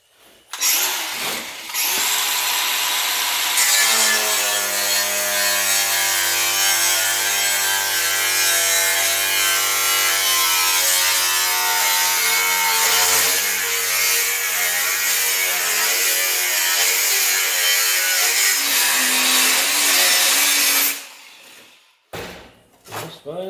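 A battery-powered cutting tool slices and trims sheet metal in a steady, loud, continuous grinding whine that runs for about twenty seconds with slight shifts in pitch, then cuts off abruptly.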